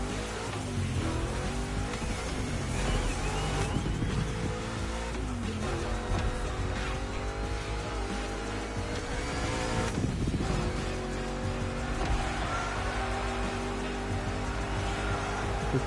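Race cars in the video game Crazy Hard Racing roar continuously with droning, shifting engine tones and revs layered over game music, loud and unbroken throughout.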